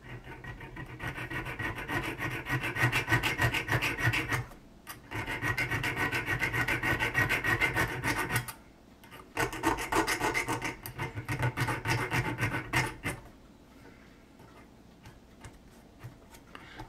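Hand file deburring a model ship part: steady rhythmic rasping strokes, close and fairly loud, in three long bursts separated by brief pauses, then quiet.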